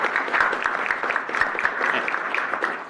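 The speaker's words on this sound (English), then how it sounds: "So let's give them a round of applause." A room full of people gives a dense, sustained round of applause at an Asia Society talk on India's development, with steady clapping at an even level and no voices over it.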